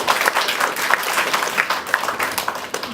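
Delegates at an UMNO Youth delegates' meeting in Raub, Pahang, clap together in steady applause of many hands that swells and fades slightly over a few seconds.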